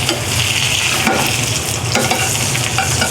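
Chicken cutlets fry in oil and butter with a loud, dense, continuous sizzle, close up and steady, with no voices.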